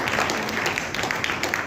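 An audience at a women's Arya Samaj gathering claps in thanks, a short burst of dense, continuous hand clapping heard close and at a moderate level.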